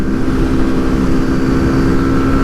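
Kawasaki Z125 motorcycle engine held at full throttle, around 8,000–8,500 RPM, on an upright top-speed run downhill; a loud, steady high-pitched drone with constant wind rumble and no talking.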